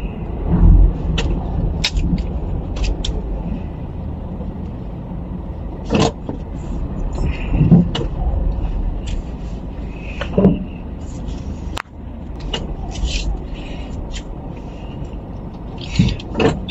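Steady car traffic rumbles around a vehicle driving at night toward the Souq area of Doha, Qatar, with passing engines, low road noise and occasional brief clicks, continuous throughout with no talking.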